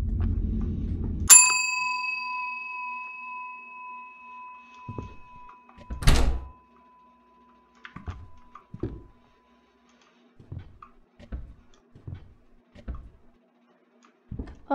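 A doorbell rings once inside a horror video game, a bright chime that decays slowly, followed by a second loud knock-like hit and a series of quiet footsteps or thuds.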